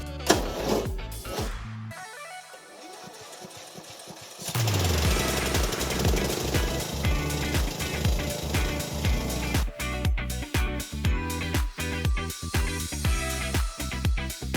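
A petrol lawn mower, just refuelled after running out of gas, gives a few rough pull-start attempts, then catches and runs with a loud, steady, chugging engine drone close by.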